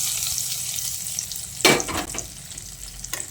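Spiced tempering and ridge gourd get stirred in a hot pan: a steady frying sizzle, then a sharp scrape with a burst of louder sizzling, followed by softer stirring scrapes and one more brief scrape near the end.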